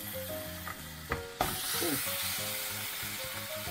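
Spare ribs searing in a pan, a sizzle that starts low under a musical background and swells into a steady hiss after a couple of sharp clatters.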